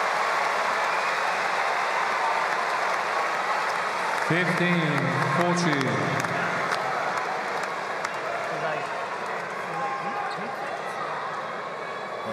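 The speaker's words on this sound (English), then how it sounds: "they applaud her" A tennis crowd at a United Cup 2024 women's match applauds steadily, a broad continuous wash of clapping, while an umpire's voice calls the score over it.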